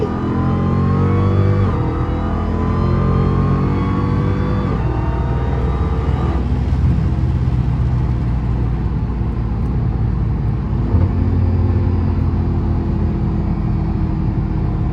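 A Dodge Hellcat engine runs steadily and loudly on the highway, windows up, with a high supercharger whine riding over the low rumble, rising and falling as the driver accelerates.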